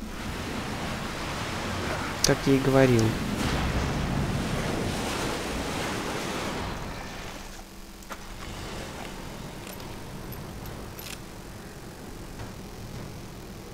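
Steady rushing water with a windy, surf-like roar fills the scene in the horror game The Evil Within, broken by a few brief clanks early on, then settling into a lower, even wash; someone speaks briefly over it.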